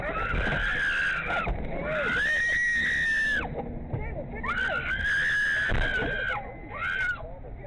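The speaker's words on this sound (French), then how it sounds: "beaucoup de cris pour pas de mal" People scream repeatedly in loud, shrill bursts during an attack on a car, several sustained cries rising and falling with a rumbling vehicle background.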